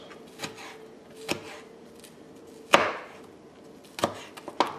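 Green onions chopped with a knife on a cutting board: a handful of separate, sharp thuds spaced irregularly, a couple close together near the end, over quiet background and no speech.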